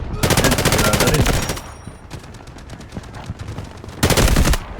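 Rapid bursts of automatic gunfire from the Delta Force Hawk Ops video game, loud and close, with a quieter gap of scattered shots between two heavy volleys.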